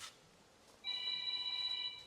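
A telephone rings with a steady electronic tone, starting after a short pause and continuing clearly for over a second, close and fairly loud, heard during work on a rusty W123 Mercedes.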